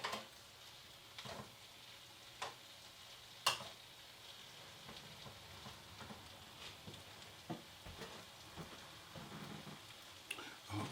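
Peruvian lomo saltado ingredients, including ginger, are tossed and stir-fried in a pan: a faint, soft sizzle runs throughout, broken by scattered sharp clicks and scrapes of the utensil against the pan.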